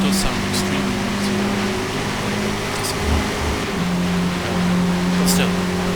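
A race car engine in Forza Motorsport gives a loud, steady drone with a low hum and rough noise, holding a constant pitch throughout, with no other sounds standing out.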